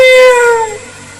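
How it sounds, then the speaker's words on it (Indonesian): A single loud, close cat meow with a bright, slightly descending drawn-out tone that fades within about a second. "Kucing minta terus."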